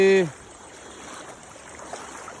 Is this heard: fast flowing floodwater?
yes